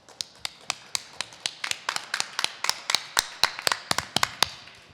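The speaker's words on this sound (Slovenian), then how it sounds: "Mogoče en aplavz." Audience applause at a literary award ceremony, the Svetlobnica prize presentation, after an author is announced: a scattered crowd of hands clapping in a steady, fairly close patter of sharp claps for several seconds.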